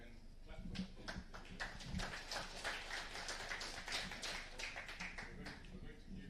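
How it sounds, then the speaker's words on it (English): Audience clapping for the panelists at an academic colloquium on freedom and democracy in Africa, a dense patter of hand claps over room noise with a few louder taps, steady for several seconds. "we can clap for them"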